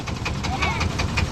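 A boat engine chugs steadily during a river ride near Mogalhat in Lalmonirhat, its low, even throb pulsing at a quick regular rhythm close by.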